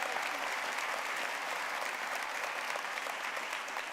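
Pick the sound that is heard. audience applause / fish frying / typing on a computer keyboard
audience applause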